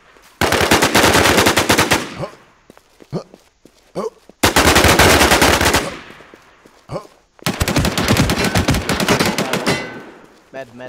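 Automatic gunfire in an online zombie-survival shooter game, three long loud rapid-fire bursts with short quiet gaps between them, where faint voices and scattered single shots can be heard.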